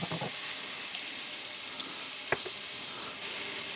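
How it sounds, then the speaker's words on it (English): Diced onion sauteing in a hot pan for a prawn bisque, giving a steady close sizzle with a few brief clacks of stirring against the pan. "we'll add in our onion and we'll saute this onion until it is translucent and sweet"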